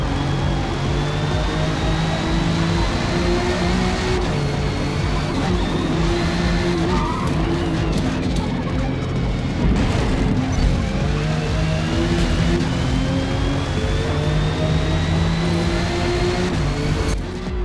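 A 1967 Shelby GT500 racing in Forza Motorsport: a loud, sustained engine roar with repeated tire squeals and skids through corners, and the revs rise and fall throughout.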